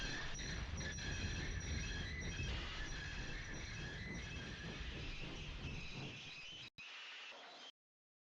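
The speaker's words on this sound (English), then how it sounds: "Toby's wheels slipped on the rails trying to get a grip." Steam locomotive wheels slipping and squealing on rails on a branchline, a loud continuous grinding rumble with high metallic squeal tones, steady for several seconds before cutting off abruptly.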